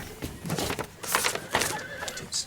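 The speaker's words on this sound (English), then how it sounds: "The horses are out of control." Panicked horses whinny and neigh several times in quick bursts, loud and close, mixed with some commotion.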